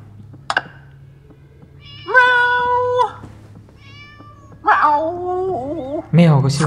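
Cartoonish cat meows from a Halloween-themed mobile video game, several drawn-out, wavering cries spaced across the stretch after a short sharp click, loud and close with a low steady hum beneath.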